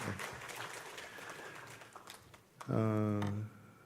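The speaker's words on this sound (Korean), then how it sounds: "큰 격려의 박수 부탁드리겠습니다." A church congregation claps in encouragement during a Sunday evening service: a steady, moderately loud patter of many hands that fades out before a voice takes over near the end.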